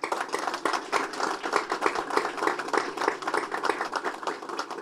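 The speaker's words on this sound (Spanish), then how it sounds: "seamos nosotros los que le demos un aplauso a nuestros niños, a nuestras niñas" Lively applause from a community gathering in Copapayo honoring children and local residents, a crowd of distinct hand claps in quick, uneven rhythm, close and sustained throughout.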